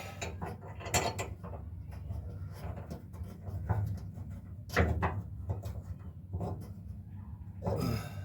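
Metal clicks and scraping of a screw being driven into a gas tank strap on a 1968 Camaro, with scattered close mechanical taps and ratcheting sounds over several seconds and no speech.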